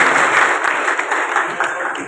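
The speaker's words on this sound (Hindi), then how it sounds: "जोरदार तालियां बजाएं" Audience at an award ceremony applauding, a steady dense wash of clapping from a crowd, loud and continuous throughout without pause.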